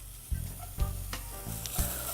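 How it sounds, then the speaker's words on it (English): Steady close sizzling of shallot pieces in a hot dry pan with no oil, with a few soft knocks and scrapes as they are stirred around. "you can hear it already starting to sizzle"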